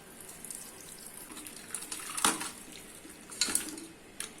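Boiled goat head meat is drained of its cooking water in a kitchen, giving faint trickling and splashing liquid with a few sharp clinks of a pot or strainer, quiet and close.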